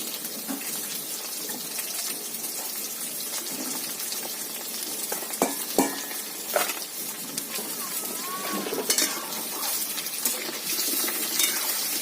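Papaya and potato pieces fry in a pan with a continuous sizzle and scattered clinks and scrapes, close and fairly steady, with no one speaking.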